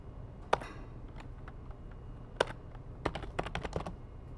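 Keys on a computer keyboard are struck at close range, a few isolated sharp taps followed by a quick burst of typing, in an otherwise quiet room.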